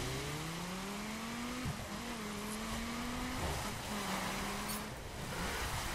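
A racing video-game drift car engine drones and shifts pitch as it revs through gears, steady and mid-level with faint tire noise, no voices.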